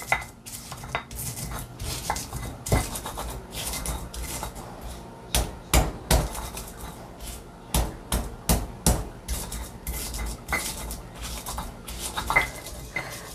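Ingredients, including fresh shallots, pounded by hand with a mortar and pestle (ulek): irregular hard knocks, some in quick runs, with grinding scrapes between them, close and fairly loud with no talking.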